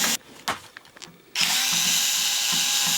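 A power screwdriver or drill backs screws out of the casing of an Akai S950 vintage sampler during a screen replacement, with a few short whirring bursts followed by a loud, steady, high-pitched whine.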